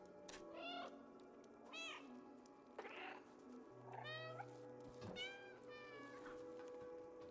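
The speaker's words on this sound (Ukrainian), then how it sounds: "Мяу." A cat meows repeatedly in the video game Stray: about six short, close, rising and falling mews spaced across a quiet game soundscape, with no talk.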